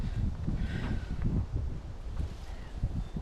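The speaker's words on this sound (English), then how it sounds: "Whew, windy." Steady wind buffeting a nearby microphone, low rumbling gusts rising and falling throughout with no one speaking.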